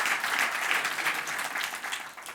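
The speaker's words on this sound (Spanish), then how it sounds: "Dale un lindo aplauso al Señor." A church congregation applauds during a service, giving a warm, steady round of clapping that starts full and tapers slightly toward the end, with no speech over it.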